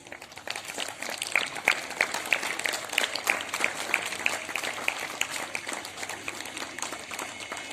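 Audience applause at a school Women's Day celebration, a moderately loud scattered patter of many hands with some sharper individual claps standing out.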